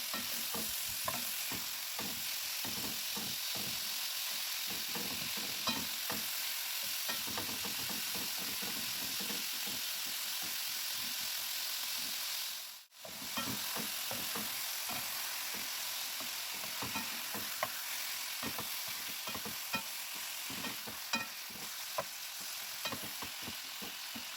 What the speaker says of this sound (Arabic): هحط بقى السجق بتاعي وهديله كده تشويحة على النار